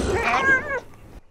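A cat in a tiger simulator video game gives a single clear, drawn-out meow, close and loud, with nothing else around it.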